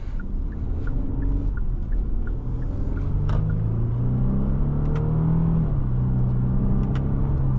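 A 2017 Genesis G80 with the 3.8 engine cruises along, its steady low engine and road rumble filling the cabin with a smooth, even drone that rises slightly in pitch partway through, with no talking.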